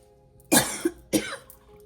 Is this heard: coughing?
yes